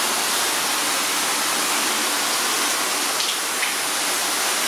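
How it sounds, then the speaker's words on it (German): A garden hose spray nozzle set to its rain pattern hisses steadily with water pattering on a surface nearby, constant and loud with no talking. "Hier mal die Regenfunktion."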